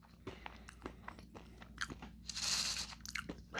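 Someone chews half-popped butterbeer popcorn kernels up close, producing sharp, irregular crunches and crackles, with a louder grinding burst midway.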